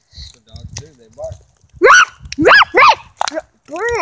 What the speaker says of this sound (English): Sorry, just a creature barking at us. The dogs do, they bark.